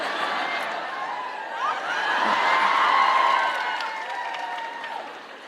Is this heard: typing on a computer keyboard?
no